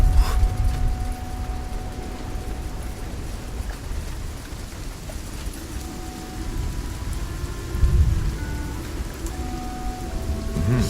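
Heavy rainstorm with rolling thunder in SpellForce 3, a steady hiss of rain on the ground with low rumbles swelling at the start and again near the end, and no voices.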